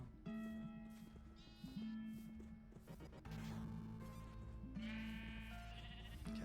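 Sheep in a video game bleat repeatedly, with several wavering calls overlapping across the clip over a steady game background, fairly loud and close, with no talking.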